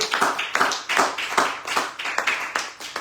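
Rhythmic applause from a church congregation during a worship service, about a dozen sharp, even claps in steady tempo, fairly close and loud, with no talking over it.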